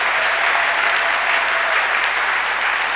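A church congregation claps for the Holy Spirit, dense, sustained applause from many hands filling the room, loud and even throughout without a break.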